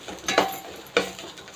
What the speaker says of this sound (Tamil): இது போட்டு நல்லா வதக்கிட்டு வந்துடுங்க.